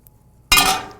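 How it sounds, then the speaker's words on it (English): A sudden rush of boiling water pouring into a metal hotel pan, a bright splashing hiss that starts abruptly and continues. "I have a hotel pan and hot boiling water. I'm gonna pour hot boiling water in here."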